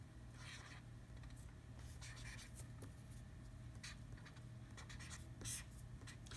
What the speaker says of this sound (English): Then write down the problem.